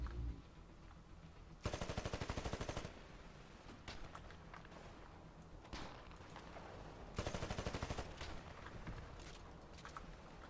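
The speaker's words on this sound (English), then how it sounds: "Shooting over here." Automatic weapon fire in the shooter game Titanfall: two loud, rapid bursts of about a second each stand out over a quieter bed of battle noise, with scattered softer shots in between.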